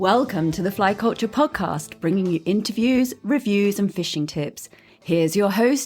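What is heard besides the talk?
None of the usual background noises is heard.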